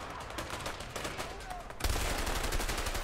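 Gunfire in the video game A Way Out: a dense run of sharp shots that swells into heavier, louder firing partway through, with faint voices underneath.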